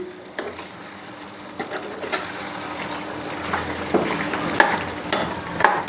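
Methi chicken fries in a pan as garam masala is stirred through, producing a steady close sizzle with scraping stir noises and light clinks throughout.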